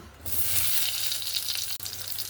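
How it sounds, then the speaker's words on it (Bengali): Eggplant pieces fry in hot oil, a steady loud sizzle with faint stirring, briefly dipping near the end before resuming. "ওই তেলের মধ্যে সামান্য আর একটু তেল দেবো, দিয়ে বেগুনগুলোকে ভেজে নেব।"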